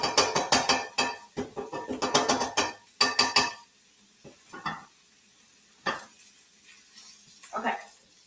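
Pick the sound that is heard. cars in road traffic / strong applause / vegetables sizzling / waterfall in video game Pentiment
vegetables sizzling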